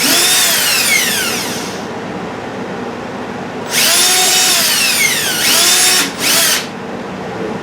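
Cordless power drill driving screws into a Vevor hose reel mount, with loud, close whines that rise in pitch over several bursts of varying length separated by pauses.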